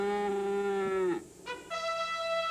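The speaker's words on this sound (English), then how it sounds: "Texas Longhorn cattle are raised here on Longhorn Acres near Rudolph." On a farm near Rudolph in Northwest Ohio, a Texas Longhorn cow gives a close, loud, drawn-out moo that falls in pitch, breaks off, then resumes with a second, shorter call.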